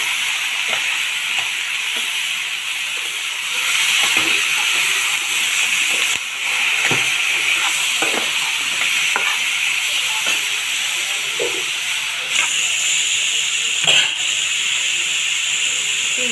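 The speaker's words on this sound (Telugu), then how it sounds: "దీంట్లో పచ్చి చికెన్ వేద్దాము." Raw chicken sizzles loudly after going into a pan of fried onions, a steady, close hiss that runs throughout with a few soft clinks and knocks on top.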